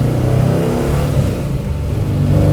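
A 1955 Chevrolet Bel Air with a Tremec 5-speed and a Currie rear end revs its engine up close, a steady, loud, continuous engine drone heard on its own.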